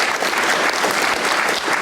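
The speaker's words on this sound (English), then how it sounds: "just put your hands together and say thank you very much" An audience at a live Fringe event gives a burst of dense, steady applause, loud and close, with many hands clapping together and no pauses.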